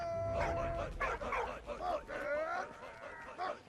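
A dog in the World War I video game Valiant Hearts: The Great War yips, whimpers and barks in short, moderately loud bursts, with a voice talking over it.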